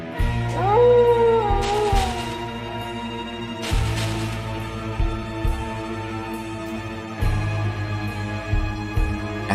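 A wolf in the video game Etrian Odyssey Untold lets out a long, rising and falling howl over steady game music, with heavy impact hits pulsing underneath.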